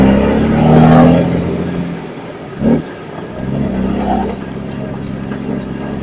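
A car driving fast along a dirt embankment, its engine roaring loud and close at first, then fading, with a brief surge midway and the rumble building again toward the end, no talk over it.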